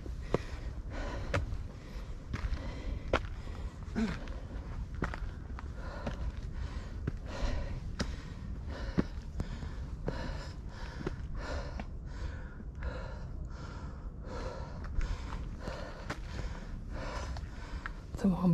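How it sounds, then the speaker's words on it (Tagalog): Heavy, rhythmic panting from a hiker climbing a rocky trail toward a summit, with steady close breaths and footsteps all the way through and a bit of speech mixed in. "Hingal pa more."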